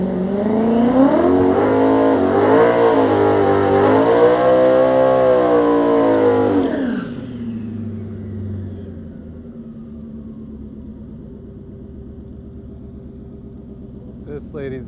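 An Audi S6, S7 or RS7 drag car at MIR drag strip accelerates with a loud, rising engine roar through several gear changes. It cuts off abruptly and drops to a low rumble as the driver lifts.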